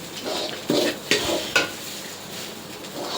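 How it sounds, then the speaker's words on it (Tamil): Vermicelli (semiya) stirred in a pan on the stove, several sharp utensil scrapes and clinks against the metal over a faint sizzle, close and fairly loud, with no talking. "இதை போட்டு நல்லா கிளறி விட்டோம்னா சுவையான சேமியா ரெடி"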